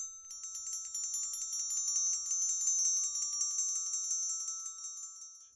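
Orchestra bells rung by a nail placed between the bars of two notes produce a soft, rapid, shimmering metallic trill that rolls on steadily and fades slightly at the end.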